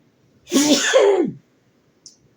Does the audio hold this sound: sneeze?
yes